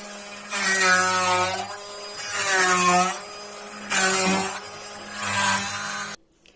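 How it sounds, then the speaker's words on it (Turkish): An electric blender purees strawberries in a pot for a no-bake strawberry cheesecake sauce. Its motor whines loudly in several long surges with short dips between them, ending abruptly. No one speaks. "Blenderımla güzelce ezeceğim çileklerimi."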